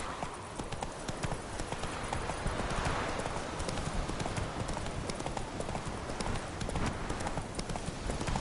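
Horse hooves clip-clopping at a brisk, steady trot in The Witcher 3 on PS4, loud and continuous, the rhythmic thuds carrying on without pause.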